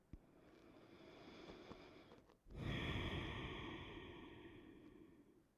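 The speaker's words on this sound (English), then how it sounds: "Breathing in and out through the nose." Slow, quiet nasal breathing: a faint, drawn-out inhale followed by a fuller, breathier exhale through the nose, close and soft with no talking.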